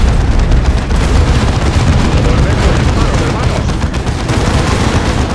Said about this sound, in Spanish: un disparo de plasma más, que ya lo revienta